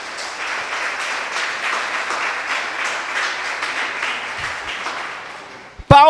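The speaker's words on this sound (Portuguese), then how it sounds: "Aplauda Ele por isso." Church congregation applauding during a sermon: steady, dense clapping that fills the space from start to finish, fading slightly near the end before a brief voice cuts in.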